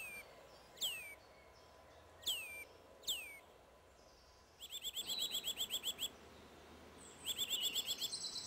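A Eurasian nuthatch calls with a few loud, clear downward-sliding whistles, then bursts into rapid trilling series of sharp notes, alone against faint background hiss.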